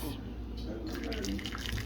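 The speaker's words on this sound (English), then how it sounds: "now I'm gonna pour the water in here" Water pours into a container up to about four cups, a running, trickling stream with a faint voice murmuring in the background.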